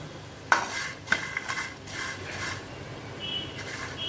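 Spicy mixed nuts rattle in a pan as they are stirred and roasted, with a few sharp metallic clinks, then a soft, steady scraping rustle against the pan and no talking.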